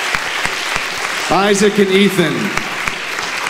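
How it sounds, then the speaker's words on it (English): Audience applause for performers at a Red Nose talent show on PEI, a steady patter of clapping running throughout, with a voice calling out names over it in the middle. "Big round of applause for these guys."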